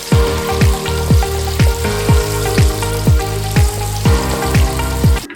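Ginger and green chillies frying in hot oil for an egg dish, a loud close sizzle with about a dozen regular spatula scrapes across the pan at a steady rhythm.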